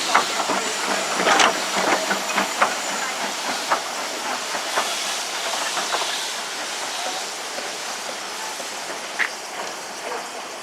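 A steam locomotive on a light railway hisses steadily alongside the footplate, with a few sharp bursts and clanks over a continuous wash of steam, close and fairly loud.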